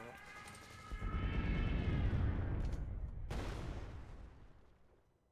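A daylight bombing explosion in the card game KARDS, a swelling rumbling blast that builds over a couple of seconds, cut by a sharp burst, then slowly fades away.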